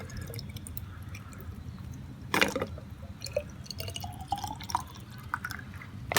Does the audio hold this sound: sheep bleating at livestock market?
no